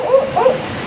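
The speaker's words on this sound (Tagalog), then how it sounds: "may asong makulit dito taon ng taon" A dog yaps twice in quick succession along a road during a motorcycle ride, short and fairly close, with no talk over it.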